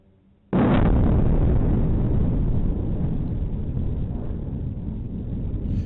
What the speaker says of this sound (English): the car alarms are going off and the lights are flashing on the cars as a result of the concussive force of the explosion